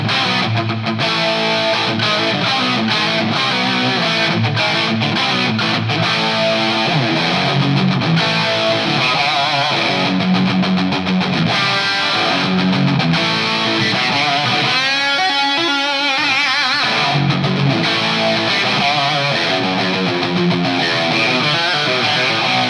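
Distorted electric guitar in a brown-sound tone, played with a shimmering chorus and a wide plate reverb wash, loud and continuous with chords and melodic runs.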